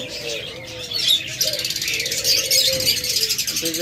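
A pair of diamond doves in a cage gives quick, bright chirps and soft coos, close and fairly loud, trilling almost continuously with some background noise.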